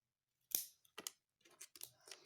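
Scissors snip through craft material for homemade toy horse jumps: about five short, crisp cuts, close and fairly quiet, each a sharp burst with small pauses between them.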